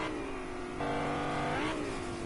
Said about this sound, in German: Hier kommt ein Auto.